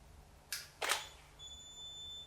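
A camera shutter fires twice in quick succession during water drop photography, two crisp mechanical clicks close to the mic, followed by a faint high electronic tone.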